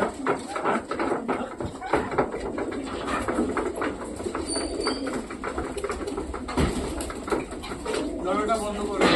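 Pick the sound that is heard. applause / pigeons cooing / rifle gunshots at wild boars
pigeons cooing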